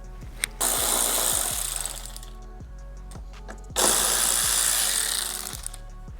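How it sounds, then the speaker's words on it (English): A power driver spins out T25 bolts from the fairing brackets of a 2024 Harley-Davidson Road Glide in two close, whirring bursts, each about two seconds long, with a short pause between them. "You want to remove all 3 bolts."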